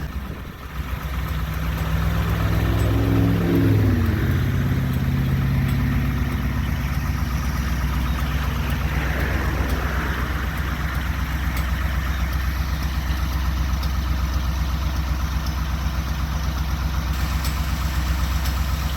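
A Jeep J20 dump truck idles through a custom exhaust, a steady low rumble close by that stays even and unbroken, with passing traffic noise faintly in the background at the start.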